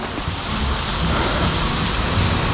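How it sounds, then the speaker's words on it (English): Cold rain falls steadily on a rising river during a 34-degree day of steelhead fishing, a loud, dense, unbroken hiss of drops on water and surroundings, with no voices. "It's raining."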